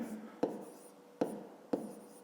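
A pen writes numbers by hand on paper during a fifth-grade maths exercise, three sharp taps each trailing into a short scratch, close and quiet, with no talk.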